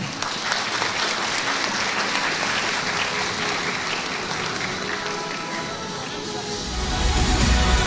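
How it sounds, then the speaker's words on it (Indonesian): Audience applause at a stage ceremony where souvenirs are presented, a steady dense clapping from a crowd that holds throughout and swells louder near the end. "Kita berikan tepuk tangan."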